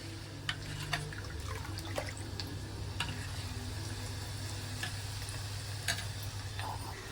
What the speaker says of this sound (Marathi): फोडणी देते मम्मी।